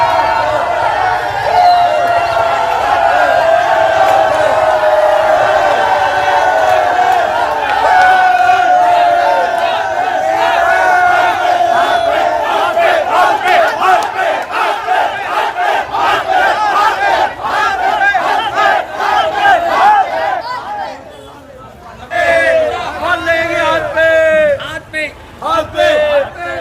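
A large crowd cheers and chants loudly after a municipal councillor election result in Chauhan Bangar, a sustained roar of many voices with rhythmic shouting, dipping briefly near the end before surging again.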